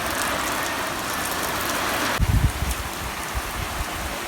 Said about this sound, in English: So it's Tuesday and it's finally raining